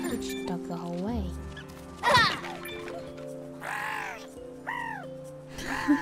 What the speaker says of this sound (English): Why are you squawking at me?